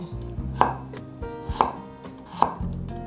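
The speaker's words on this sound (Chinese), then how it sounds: "把红萝卜斜刀切片" A knife slices a peeled carrot on the diagonal against a cutting board, giving three sharp, evenly spaced chops with quiet handling between them, close up and with no voices.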